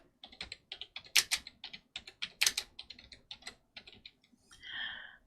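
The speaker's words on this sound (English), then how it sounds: "While I type out the question." Rapid typing on a computer keyboard, close and crisp, with uneven bursts of clicking keys and a few louder strikes, then a short hiss at the end.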